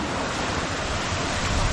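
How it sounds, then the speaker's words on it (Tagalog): Strong floodwater rushes through a flooded rice field, a loud, continuous broadband roar of churning water held close to the microphone. "Laka po ng tubig eh oh."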